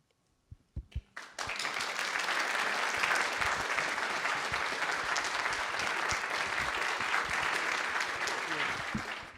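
An audience breaks into sustained applause after a few scattered opening claps, dense clapping holding steady and loud to the end, honoring Carol at a community development gathering.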